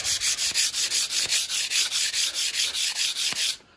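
A wall surface is sanded with a pad during a DIY house repainting job, giving fast, regular scraping strokes, about four per second, close and steady for several seconds before stopping.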